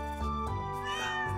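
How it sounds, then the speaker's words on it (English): A cat meows in the farming game Stardew Valley: one short, clear, close meow that stands alone with no talking. "Yes, I will adopt this cat."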